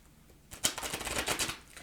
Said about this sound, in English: Okay, I'll shuffle